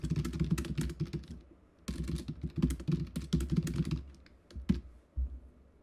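Someone types a prompt on a computer keyboard, a fast, close run of clicking keystrokes in bursts with brief pauses.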